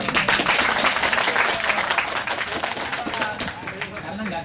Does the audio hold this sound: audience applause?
yes